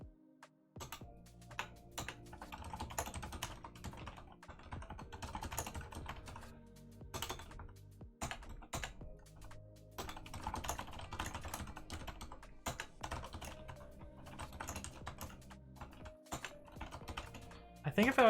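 Rapid computer keyboard typing during a live coding session runs in dense, irregular bursts of clicky keystrokes for the whole stretch, with only short pauses between flurries.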